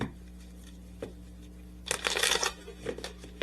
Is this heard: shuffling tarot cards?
yes